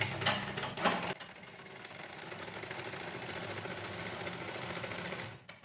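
A sewing machine stitching the fall onto a saree edge with cotton thread, a steady close mechanical whir that runs evenly after a few brief handling knocks at the start.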